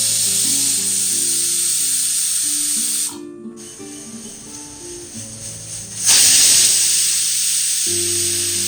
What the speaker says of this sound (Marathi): कुकरचं झाकण लावलं आहे, आपण आता इकडे 2 किंवा 3 शिट्या घेणार आहोत